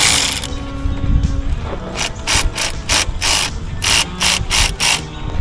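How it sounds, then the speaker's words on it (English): A ratchet wrench works at tight bolts to release the belts on a Subaru WRX, its pawl clicking in quick, uneven bursts of loud, close ratcheting with short pauses between strokes. "he's currently trying to release these bolts there."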